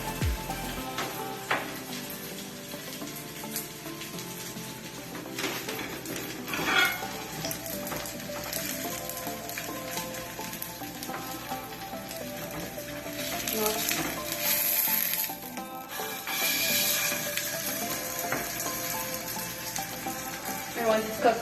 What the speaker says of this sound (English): put it on the pan with some hot oil. And you're going to fry it.